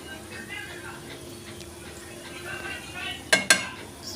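Turmeric, chili and coriander-cumin powders frying in a pan for cashew curry, a soft steady sizzle with light stirring, then two sharp clinks of a spoon against the pan near the end.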